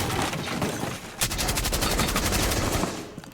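Rapid, loud gunfire in a video game, on the Old Oregon map, comes as a dense string of shots for about two seconds after a sustained burst of game noise.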